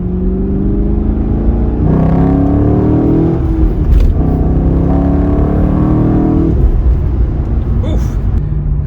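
A 2017 Chevy SS sedan engine revving hard at full throttle as it accelerates, a loud rising drone that climbs in pitch, drops at a gear change, then climbs again.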